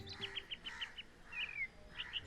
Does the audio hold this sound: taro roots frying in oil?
no